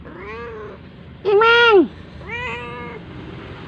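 A house cat meows loudly and insistently at close range, three drawn-out calls with a strong, wailing middle one, while a person speaks briefly in between.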